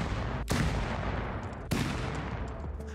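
Explosions and gunfire in the modded Rust video game: two heavy, sharp blasts about a second apart over a constant dense roar of distant shooting and rumbling.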